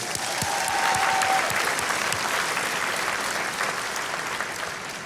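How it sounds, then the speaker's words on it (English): At a social work school commencement, the audience applauds award recipients with a steady wash of clapping that stays even for several seconds and eases slightly toward the end. "Please, another round of applause"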